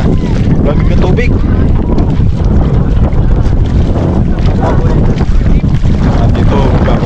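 Strong wind buffets the microphone at a river in the rain, a loud, constant low roar with gusty rumble throughout and no gaps.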